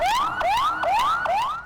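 A wailing ambulance siren stuck in traffic after a rally sweeps upward in repeated cycles, about one rise every 0.4 seconds, loud and steady with no voices over it.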